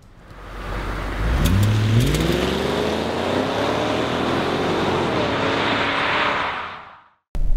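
A 2001 BMW 540i M Sport with a 4.4-liter V8 drives past, its engine note rising steadily as it accelerates into a loud, sustained roar before cutting off.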